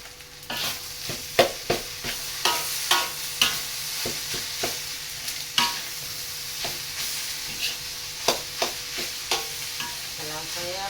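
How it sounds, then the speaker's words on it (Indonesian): Nasi goreng (fried rice) frying in a pan under a steady close sizzle, with repeated sharp scrapes and clanks of stirring spread through the whole stretch. "Kalau saya menggoreng nasi goreng saya lama sedikit."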